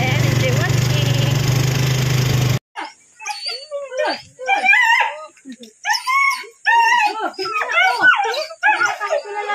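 A dog barks and whimpers near a grandmother's house, with excited people talking over it, after a loud engine-like rumble cuts off abruptly.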